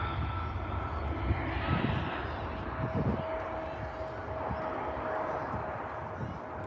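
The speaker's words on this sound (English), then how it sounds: "So there she goes, the Boeing 777." A Boeing 777 airliner flies past at Manchester, a broad, steady roar of jet engines heard from a distance and continuing throughout, with faint background voices and noise beneath it.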